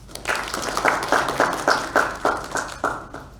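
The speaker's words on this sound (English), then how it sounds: "A round of applause, please" A small audience claps at an athletics meeting's media launch, a short round of distinct, rhythmic hand claps close by, fading at the end.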